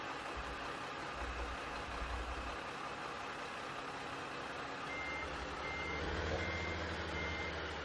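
Reversing beeps from a truck in the Farming Simulator 15 video game, a steady repeating tone over a continuous engine rumble with low farm-machinery drone throughout.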